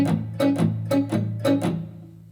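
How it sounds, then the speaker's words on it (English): Blues shuffle rhythm strummed on a guitar: six bright strums in an uneven long-short swing pattern, close and clear with no talking, the last chord left ringing out. "So a shuffle is going to sound like this."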